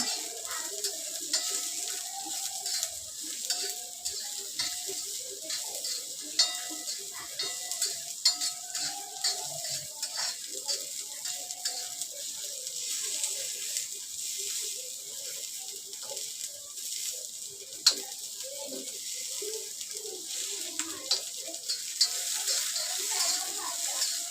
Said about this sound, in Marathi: कांदा चांगला भाजून घ्यायचा